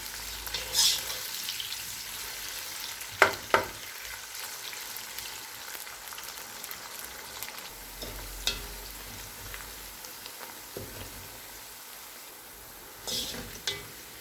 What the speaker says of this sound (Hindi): और प्याज को गोल्डन ब्राउन होने तक भून लेंगे